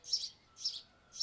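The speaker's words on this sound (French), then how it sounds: "Oh, les oiseaux" Birds chirping outdoors, three short bright tweets spaced at an even rhythm, fairly faint and heard alone against quiet surroundings.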